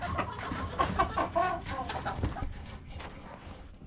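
Hens and two roosters in a homestead flock of about sixteen birds cluck and call close by in winter, a busy overlapping chatter that thins out toward the end.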